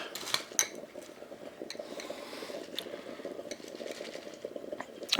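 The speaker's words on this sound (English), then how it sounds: "Stir that up." A spoon stirring an eggnog mocha with milk in a cup, clinking and scraping steadily against the sides in quick, close, fairly quiet strokes, with no talking.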